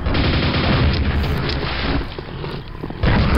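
A heavy booming blast from the alternate fire of a weapon in the Quake VR video game, loud and sustained for a few seconds with rumbling texture, then a fresh burst near the end.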